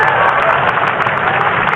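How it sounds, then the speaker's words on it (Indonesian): An outdoor crowd at an Indonesian gathering with police and young participants claps steadily and densely at close range, a loud continuous wash of applause with no voices standing out. "Tepuk tangan semuanya, keren"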